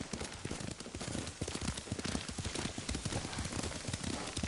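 A horse ridden in Ghost of Tsushima clip-clops at a steady rhythmic pace, its hoofbeats close and fairly quiet, with no one speaking.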